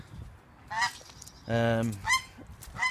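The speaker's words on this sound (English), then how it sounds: "The grey geese are coming out, going into a breeding pen" Grey geese honk in several separate bursts near a breeding pen, loud and close, with quiet gaps between calls.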